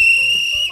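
A loud, piercing whistle blows in one steady high shrill tone held for most of the moment, close and alone before cutting off.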